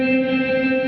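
A Chase Bliss MOOD pedal sustains a loud, steady wash of delay and reverb, a smeared tonal drone with stacked harmonics and no attack, alone.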